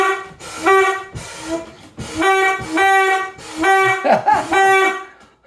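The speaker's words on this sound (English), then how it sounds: "my wife's gonna blow the foghorn. Watch this." A foghorn sounds at Liverpool, Nova Scotia, near and loud, in a series of short, harmonic honking blasts separated by brief pauses.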